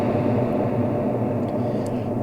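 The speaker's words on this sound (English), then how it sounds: "It is sort of giant dark reverb." A dense, dark wash of reverberant sound, a long smeared tail with no clear attacks, steady and fairly loud throughout.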